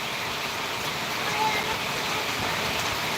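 Heavy rain falls steadily as a dense, continuous hiss with no breaks, close and fairly loud throughout, with faint voices in the background.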